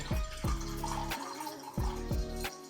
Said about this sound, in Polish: woda zagrzana, nalewamy ostrożnie, delikatnie